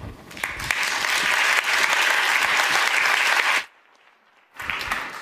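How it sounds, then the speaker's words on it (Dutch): Audience applause at an evening science café quiz night, a loud dense wash of clapping from a full room that cuts off abruptly into near silence for about a second, then resumes. "Applaus."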